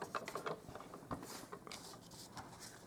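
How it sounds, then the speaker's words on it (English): A die cutting machine for Stampin' Up! card making runs in a quiet, steady mechanical grind with ratcheting clicks and gear-like rattles, fairly faint and close, with no talking. "I'll just grab my die cutting machine again."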